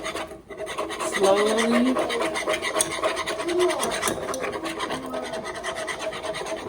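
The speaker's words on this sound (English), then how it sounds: "And we back to whisking." A roux for vegan gumbo is whisked in a pot with a continuous rhythmic scraping and rasping of the whisk against the pot, while a voice speaks briefly.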